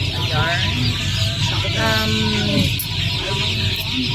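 Many young chicks being delivered in a backyard poultry business setting, a constant dense chorus of high peeping and clucking filling the whole stretch, close and loud.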